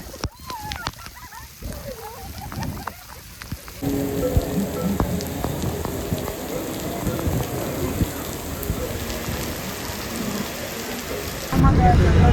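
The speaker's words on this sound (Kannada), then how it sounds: "ಎಲ್ಲ ಮಳೆಯಲ್ಲಿ ನೆನ್ಕೊಂಡು ಹೋಗ್ತಾ ಇದ್ದಾರೆ." Steady rain pours down on surfaces, dense and close, after a few seconds of people talking; the downpour grows louder toward the end.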